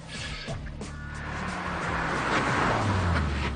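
A driverless robotic car from Stanford rolls along the road, its engine and tyre noise rising steadily from a low hum to a fuller rush over a few seconds.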